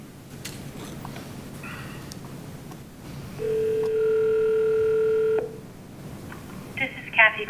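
A steady telephone dial tone on a planning commission meeting's phone line hums for about two seconds over low background noise, followed by short keypad beeps.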